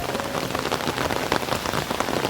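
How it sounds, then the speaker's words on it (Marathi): Heavy rain pours steadily, a dense hiss of drops pattering on surfaces with no pauses. "जाम पाऊस पडतोय"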